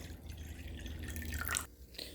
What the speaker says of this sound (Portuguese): Vou adicionar agora aqui 200 ml de água